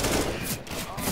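Rapid bursts of gunfire from the Counter-Strike: Global Offensive video game crackle in quick succession over the short span, with a player's voice talking underneath.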